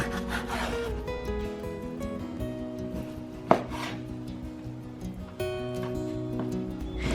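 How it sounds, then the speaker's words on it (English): A knife thinly slicing sirloin beef against the grain on a cutting board, giving close, repeated sawing and scraping strokes with a sharp tap near the middle, no talk. "now we're going to take our sirloin and thinly slice against the grain"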